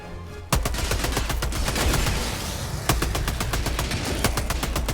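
A heavy machine gun in Helldivers 2 fires a long, rapid, evenly spaced burst, loud and close, briefly pausing before resuming at the same fast rhythm.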